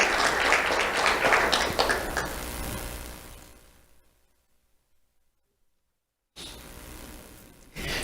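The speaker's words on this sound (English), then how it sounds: "Let's have a round of applause for Jaden Carbajal." Applause from the audience at a sheriff's office awards ceremony for a second-grade student, loud and dense at first, then thinning and fading to silence before a second burst of clapping starts.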